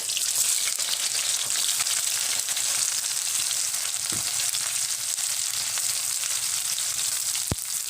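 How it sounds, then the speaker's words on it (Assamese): Green chilies and onions hiss and sizzle in hot oil in a pan, a steady loud frying crackle throughout with a couple of sharp spatters. "এয়া মোৰ এতিয়া তেল গৰম হৈ গৈছে আৰু এই তেলত এতিয়া মই দিম কেঁচা জলকীয়া কেইটা লগতে দি দিম মই পিয়াজখিনি"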